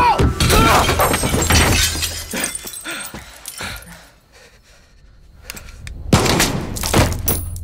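A gunshot in Far Cry 6 rings out amid loud, chaotic action with shattering and breaking sounds, a barking dog and shouting voices, followed by a brief lull before another sharp burst.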